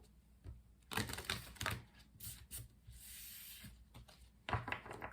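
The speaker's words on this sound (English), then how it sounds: "Let's do one more shuffle." Quick bursts of riffling and soft slapping tarot cards, several shuffles in a row with brief pauses, close and moderately loud, no voices.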